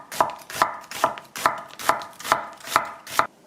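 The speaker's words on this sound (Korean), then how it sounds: "양파를 썰어 보겠습니다" An onion being sliced with a knife on a cutting board: eight crisp, evenly spaced chops at a steady rhythm, close and clear with no talking.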